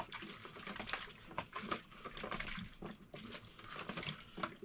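Liquid sloshes and swirls inside a film developing tank as it is agitated with a twisting motion, a close, steady watery churning with small rhythmic surges throughout.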